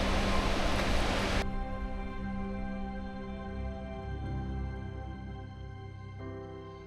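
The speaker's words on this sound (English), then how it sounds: "So this is the waterfall." The Triberg waterfall in Germany's Black Forest gives a continuous rushing roar, loudest at the start and then settling into a steadier, lower wash of falling water with no talking.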